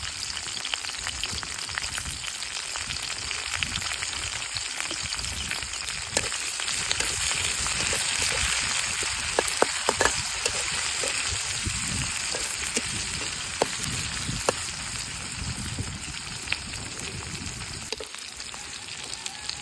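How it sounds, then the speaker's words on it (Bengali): Chopped onion and green chilies fry in hot oil with cumin seeds, a steady close sizzle with crackling pops throughout, no voices. "পেঁয়াজ কাঁচামরিচ গুলো অর্ধেক ভাজা নিয়েছি।"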